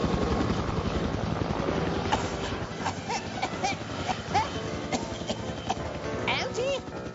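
A helicopter drones steadily over a mountain tour area, mixed with clip-clopping horse hooves and a whinny, while animated characters talk over the scene.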